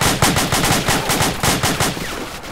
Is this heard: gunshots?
yes